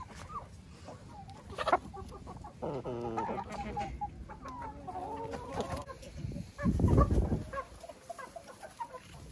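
Backyard hens cluck and chatter nearby in a farmyard coop, a string of soft, irregular calls with one louder squawk, no talking over them.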